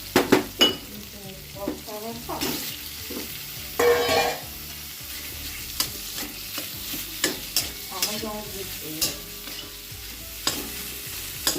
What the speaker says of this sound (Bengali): একদম কষে তেলটা ছেড়ে দিয়েছে, এবারে ছানাটা দিয়ে দিলাম।